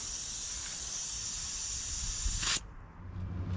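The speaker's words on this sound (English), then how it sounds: "valve core's leaking though" Air hissing from a leaking tire valve core on a 1967 Cadillac, a loud, steady, close rush of escaping air that cuts off abruptly near the end, leaving low background noise.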